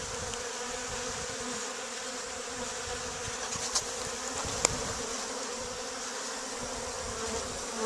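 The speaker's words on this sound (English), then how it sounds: "Bees are pretty active." Honeybees buzz around a hive on a mild early-spring day near 60 degrees, a soft, steady, continuous hum with a few brief closer passes.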